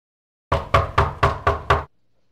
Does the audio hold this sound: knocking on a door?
yes